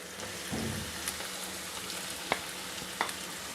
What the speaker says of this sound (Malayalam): ഇനി നന്നായി ഒന്ന് നല്ല ബ്രൗൺ കളറാവുന്ന വരെ നന്നായി വഴറ്റിയെടുക്കണം